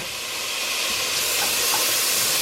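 Garlic stirred into softened vegetables in a soup pot for Italian wedding soup, a steady bright hiss of cooking that swells slightly, with faint stirring.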